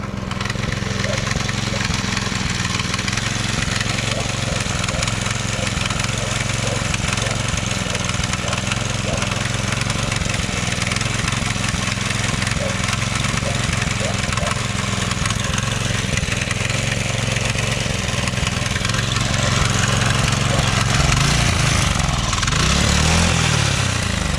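An older rare Honda motorcycle engine runs continuously at a steady, rumbling idle close by, with a slight change in tone near the end.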